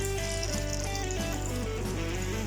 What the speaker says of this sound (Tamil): நம்ம பாயில் பண்ணி எடுத்து வச்சிருக்கோம் இல்லையா, அந்த தண்ணியை சேர்த்துக்கிறேன்